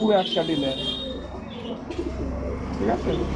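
A male pigeon coos in soft, throaty, repeated calls at close range inside a bird shop, with someone talking over it and other bird chirps in the background.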